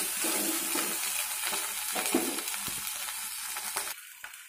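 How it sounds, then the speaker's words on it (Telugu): Ginger garlic paste sizzles and fries in a pan for a Telugu cucumber curry, a continuous close crackle with stirring scrapes, then cutting off near the end. "అల్లం వెల్లుల్లి పేస్ట్ పచ్చి వాసన పోయేంత వరకు వేయించుకుందాం."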